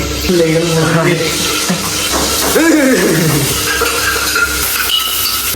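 Green chilies and bay leaves frying in white cooking oil, a steady crackling sizzle with occasional stirring clinks, heard continuously beneath a voice talking.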